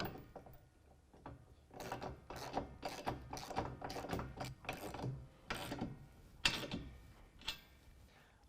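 Ratchet wrench tightening carriage bolts on a Backrack Original headache rack: quick runs of sharp metallic clicks in irregular bursts over several seconds, close by and fairly quiet.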